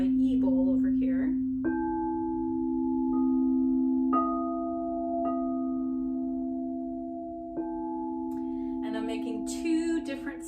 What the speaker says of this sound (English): if I go to a second bowl, which is my E bowl over here